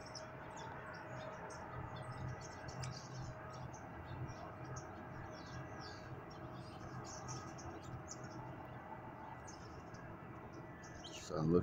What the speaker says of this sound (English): Birds sound awesome.